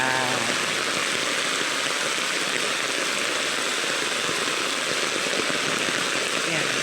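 Heavy rain pours down near a flooded street, a dense, unbroken hiss and roar that stays loud for the whole stretch.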